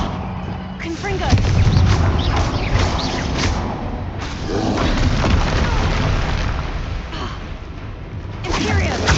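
Spell explosions from Bombarda and Confringo in Hogwarts Legacy, loud booming blasts and crackling bursts that run almost continuously over a rumbling game background, with several sharp detonations.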